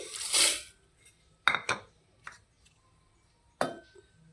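A steel mixer grinder jar is handled in a kitchen while roasted spices and peeled chickpeas are ready for grinding, giving a few close, sharp metallic clanks and knocks at separate moments with quiet gaps between.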